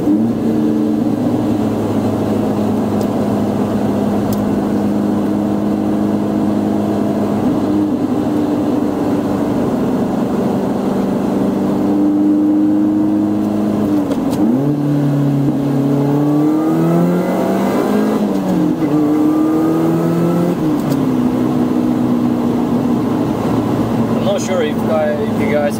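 A supercharged Lotus Elise Sport 220 with its intake snorkel removed drones loudly throughout. The engine holds steady revs, then dips and climbs in rising sweeps, with a whine riding above the exhaust note.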